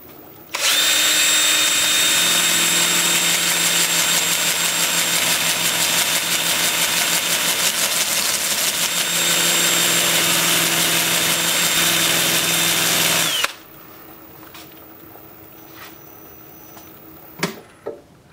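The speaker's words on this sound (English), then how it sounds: "I'll show you the sandal flex and the 2-inch disc sander. With the lathe spinning in reverse at about 350." A flex sander and 2-inch disc sander work a wooden pedestal bowl on a lathe spinning in reverse at about 350 rpm, a steady loud whirring grind that runs about thirteen seconds, then cuts off to a quiet hum with a couple of knocks.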